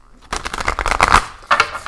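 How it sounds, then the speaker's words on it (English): A deck of tarot cards is shuffled up close, giving a quick run of crisp riffling flutters, then a short pause and a brief second burst. "I am going to shuffle these and we'll draw a card"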